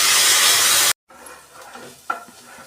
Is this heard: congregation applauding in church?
no